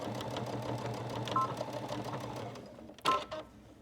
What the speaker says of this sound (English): Let's go back to your machine. And just stitch a little bit,